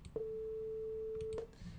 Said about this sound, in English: It's a 440 hertz sine wave, and let's just take a quick listen.